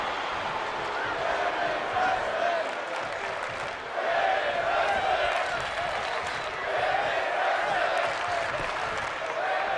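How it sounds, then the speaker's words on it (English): A video game crowd cheers at a WWE 2K25 wrestling match, with a steady, sustained roar of an arena audience swelling and dipping slightly and no break in the noise. "The crowd is invested in this match."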